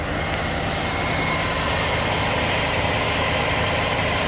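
A car engine with newly installed exhaust manifolds idles steadily and loud, a continuous rumbling drone with a faint belt whine and no breaks.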